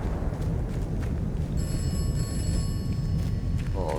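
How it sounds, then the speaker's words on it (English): A telephone rings in the video game Atomfall, a steady electronic ringing that enters partway through over a loud, continuous rumble of wind and storm noise. "Oh, telephone's ringing."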